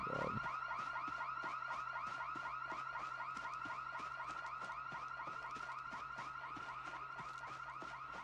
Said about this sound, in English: Oh my god, I triggered an alarm.